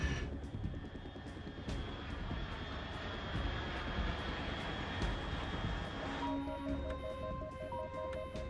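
Fast unidentified aircraft passing at altitude in the video game Metal Gear Solid 3, a continuous loud engine roar with a sustained tonal hum that shifts pitch toward the end.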